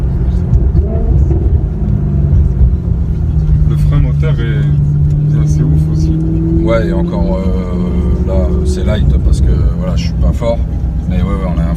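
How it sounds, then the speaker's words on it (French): Maserati GranTurismo S engine braking, a steady mid-pitched engine drone with a gliding tone as revs fall, heard from inside the car while people talk over it. "on a un frein moteur assez impressionnant"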